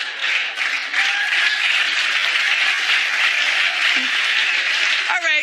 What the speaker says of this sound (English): clap a little louder